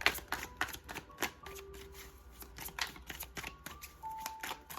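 Chakra oracle cards being shuffled by hand, a series of quick papery riffles and soft flutters close up, fairly quiet with faint background tones.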